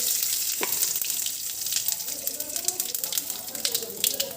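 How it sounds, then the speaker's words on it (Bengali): Whole cardamom, cloves and cinnamon crackle and sizzle in hot oil, with a steady spitting hiss and small pops at close range; a voice speaks briefly over it. "এর মধ্যে আছে এলাচ লবঙ্গ আর দারচিনি ফোড়ন দিয়ে দিলাম এগুলো একটু ভেজে নেব"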